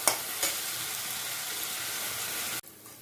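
Pabda fish curry masala frying in oil, a steady close hiss of sizzling with a couple of stirring scrapes near the start, cutting off abruptly near the end.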